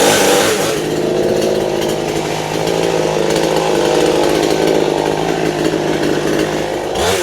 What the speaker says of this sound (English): Use a chainsaw without any eye protection or ear protection in your flip-flops.